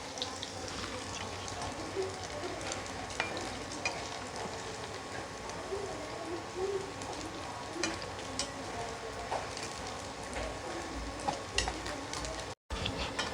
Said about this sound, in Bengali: এবার এটাকে একটু ফ্রাই করে নেব